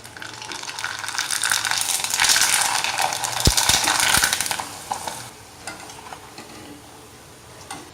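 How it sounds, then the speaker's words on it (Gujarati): Loud, dense hiss of rice papad frying in hot oil swells up, holds for a few seconds with a couple of sharp clinks, then dies down to a soft sizzle. "પાપડ તેલમાં નાખીએ તરત જ હોય તેના કરતાં ડબલ તળાઈને તૈયાર થઈ જશે"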